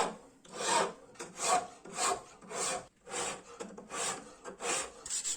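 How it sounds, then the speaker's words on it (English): Hand file strokes along the bevel of a small pocket knife blade, about nine rhythmic rasping back-and-forth passes at close range, each a distinct scraping burst with short gaps between. "Bevel filing."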